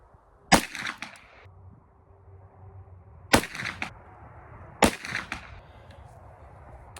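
A Ruger LC carbine fires Underwood ammunition outdoors, three sharp, loud gunshots spaced a few seconds apart, each followed by a short ringing echo over quiet background.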